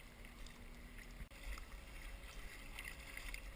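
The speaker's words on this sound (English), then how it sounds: "Right now we're paddling to Queho Cove, which is about 1 mile downstream." Kayak paddling downstream on a river near Willow Beach, with steady water swishing and gurgling from paddle strokes close by, alone without talk.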